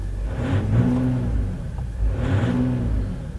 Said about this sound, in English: That's what it's like when you're, just sitting there revving on it.